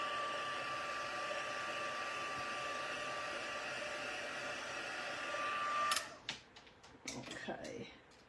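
A hand dryer or heat tool blows steadily on ink on a handmade card, a constant close whir that then cuts off, followed by light tapping and handling clatter.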